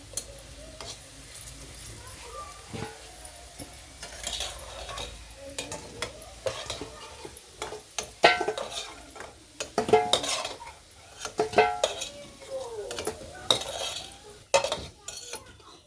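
Potato pieces frying in oil in a wok, a spoon scraping and clattering against the metal in irregular bursts over a faint, steady sizzle, close up with no talking.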